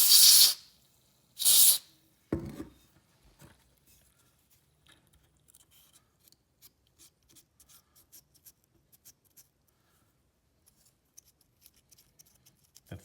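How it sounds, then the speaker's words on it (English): Electrical contact cleaner sprayed from an aerosol can during brake light work on a 1994 Mercedes C280 W202, heard as two loud, close hissing bursts about a second each, followed by a short clatter and faint scattered clicks. "I'm going to use an electrical contact cleaner spray."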